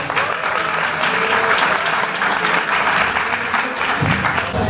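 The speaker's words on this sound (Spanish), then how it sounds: "Un aplauso" An audience at a talk on earthquakes in Bogotá breaks into loud, full applause that holds steady for several seconds, dense clapping filling the room.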